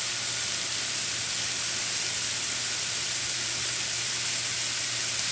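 Vegetables for vegan fajitas sizzle steadily in a hot pan, a constant broadband hiss with a low hum underneath, even and unbroken throughout with no talking.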